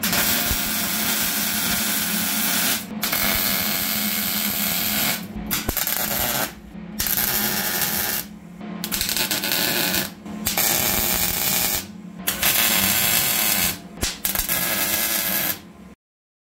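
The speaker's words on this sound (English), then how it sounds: "it took me about 2 hours to weld this whole frame up" A steel cyclekart frame is being welded, giving a loud, steady crackling hiss in long bursts that stop abruptly for short pauses between beads, heard close up.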